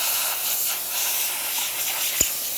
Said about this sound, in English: Pressure from the steam boiler